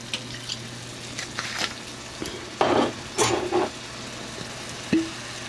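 Soy sauce splashes into a hot steaming pan of meat for stuffed peppers, giving a few separate sizzling bursts and stirring scrapes over a quiet frying hiss, with a short clink near the end.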